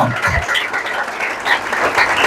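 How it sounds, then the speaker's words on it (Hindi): A congregation claps for Jesus at an Easter Sunday church service, a brief dense burst of steady applause with some voices mixed in. "आए जिंदा यीशु के लिए भरपूर तालियां बजाएं।"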